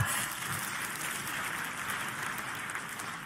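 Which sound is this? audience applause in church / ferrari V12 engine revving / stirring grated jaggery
audience applause in church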